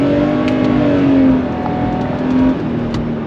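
A Subaru Outback 3.6R flat-six fitted with a WRX catback exhaust revs loudly and close by, its steady droning tone swelling and easing twice over a few seconds, with no talking.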